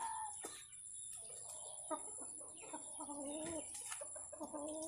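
Young rooster stag on a farm, making several short, fairly faint clucks and low calls in irregular bursts over a quiet background with a steady high-pitched whine, and no speech.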